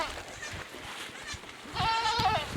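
A goat bleats near the end on a goat farm, a short wavering cry over quiet outdoor background noise.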